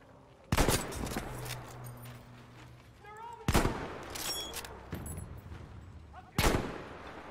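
Gunfire in the World War II shooter Battlefield V, with three loud, sharp shots spaced a few seconds apart. Each one is followed by a decaying rumble, and quieter game effects play between them.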